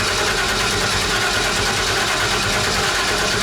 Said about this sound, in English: Flooring it, and we're gonna crank it.